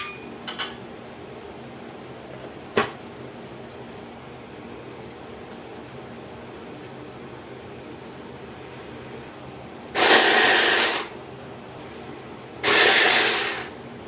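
Electric chopper whirring through coriander, garlic, green chillies and onion in two loud bursts, about a second each, separated by a short pause, over quiet kitchen background.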